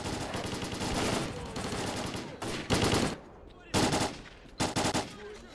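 Bursts of automatic gunfire crackle in a firefight with bandits in STALKER: Clear Sky, a dense opening volley followed by several short separated bursts, loud and close with no speech.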